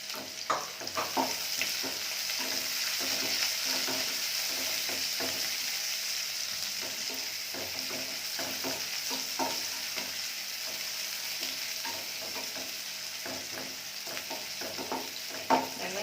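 Onions frying in a pan for an egg stir-fry, with a constant close sizzle and frequent clicking stirring strokes throughout; no voices.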